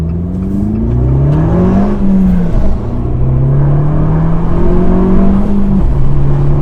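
Fiat 595 Competizione fitted with an Akrapovic exhaust, its exhaust valve open, accelerating hard through the gears; loud, close engine and exhaust note that climbs in pitch, drops at each shift, then climbs again, with no talking.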